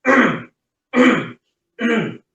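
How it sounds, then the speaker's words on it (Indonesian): Three separate throat clearings, evenly spaced with brief silences between, close and fairly loud. "dengan berdehem"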